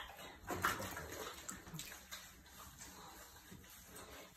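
A dog is washed in a bath, with water splashing and rinsing over its coat in a soft, continuous wash that swells briefly and then settles into steady trickling.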